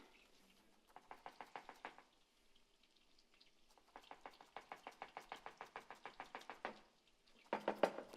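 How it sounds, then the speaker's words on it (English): Knife chopping garlic on a cutting board during a Polish cooking demonstration, a quick run of rhythmic knocks in bursts separated by short pauses, with a soft sizzle from a pan underneath. "And so while he's chopping that"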